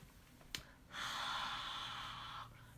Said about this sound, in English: but I'm breathing warm air on it.